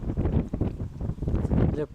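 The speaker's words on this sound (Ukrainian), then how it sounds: "От сьогодні вітер такий." Wind buffets the microphone with low rumbling gusts while people talk close by.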